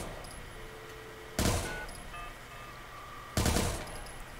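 Two loud, short bursts of gunfire from Watch Dogs 2, about two seconds apart, over a steady background hum.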